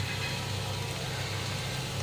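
Grated beetroot going into a pan of frying ginger and garlic, giving a steady, close sizzle that holds evenly throughout with a faint knock at the very end; no voices.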